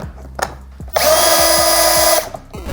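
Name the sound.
power drill driving 3-inch deck screws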